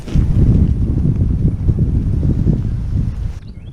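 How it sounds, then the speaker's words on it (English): Strong wind buffets the microphone in a steady, low roar with gusty fluctuations, cutting off abruptly near the end. "I must mention that this day, it was quite windy. Like, really windy."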